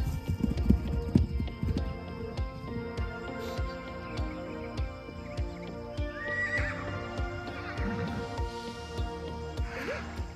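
A horse neighs and whinnies while hooves clip-clop close by in a stable yard, the neigh rising clearly over steady hoof steps, with no talking.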